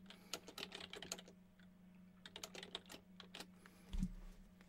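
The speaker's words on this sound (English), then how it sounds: "So let me type it in here." Fast bursts of clicky keystrokes on a computer keyboard, close up, with brief pauses between runs over a steady low background hum and a soft thump near the end.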